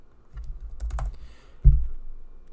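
Someone types on a computer keyboard while entering a MATLAB command: a short run of close keystrokes, then a brief pause and one louder, firmer key press. No speech.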